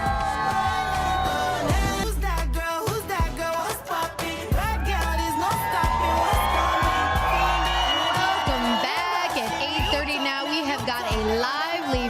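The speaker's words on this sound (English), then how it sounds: "Friday morning crowd with us on the plaza getting ready for a fun concert" A Friday morning crowd gathered on an outdoor plaza before a concert cheers and whoops, with many voices shouting and yelling at once, loud and continuous throughout.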